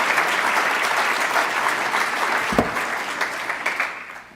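An audience applauds at length to welcome Dr. Charles Swindoll to a church pulpit, dense steady clapping filling the room throughout with a brief thump partway through.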